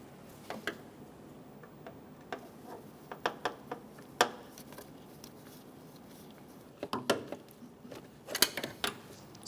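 Faint, sparse metallic ticks and clicks from nuts being snugged down onto the master cylinder studs of a 2003-2007 Honda Accord, in short irregular bursts against a quiet background.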